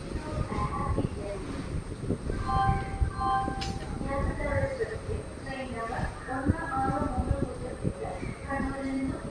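A Coimbatore–Shoranur passenger train pulls out of Shoranur Junction with low rumbling and rhythmic clatter of wheels on rails, heard from aboard while someone talks over it.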